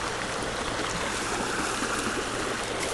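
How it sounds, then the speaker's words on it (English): A river flows strongly and splashes against a tree trunk, making a dense, steady rushing wash of water that is close and continuous, with no voices. "the river is flowing along quite strongly"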